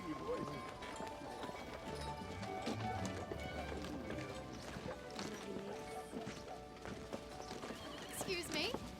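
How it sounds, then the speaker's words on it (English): Horse-drawn buggy hooves clip-clop steadily and fairly close in a lively period scene, with a horse whinnying and a crash or clatter here and there, all under ongoing talk and background music. "Oh, she means your horse and buggy."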